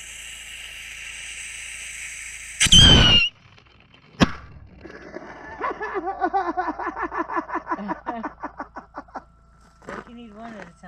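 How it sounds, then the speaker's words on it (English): Acme fireworks go off in a Bridge video game cutscene: a loud hissing burst followed by a sharp bang, then a voice talks over a quieter stretch. "Damn Acme fireworks."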